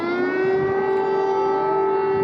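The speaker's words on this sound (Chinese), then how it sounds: "空袭警报又开始打。" An air raid siren in Kyiv sounds a single steady, piercing wail that holds one pitch throughout, loud and unbroken with no other sounds.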